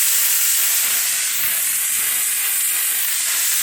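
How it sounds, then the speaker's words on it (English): Loud, steady steam hiss pours from a McCulloch steam cleaner, a continuous broadband rush with a little water sputtering, holding unbroken for several seconds at close range. "there is some water coming out, mostly steam"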